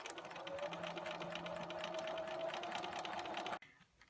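A sewing machine stitches red and white fabric pieces together in a steady, fast mechanical whir that runs unbroken for a few seconds, then stops abruptly. Nearby, fairly quiet, with no talk.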